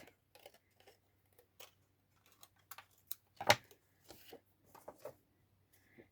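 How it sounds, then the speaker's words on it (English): Tape for acetate bookmarks being cut at close range: faint scattered ticks and handling taps, then one sharp, louder snip near the middle, followed by a few more soft clicks in a quiet room. "So now I can cut the piece I need"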